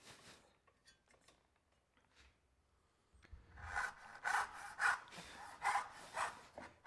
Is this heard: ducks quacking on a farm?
no